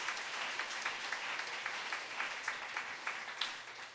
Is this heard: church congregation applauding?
yes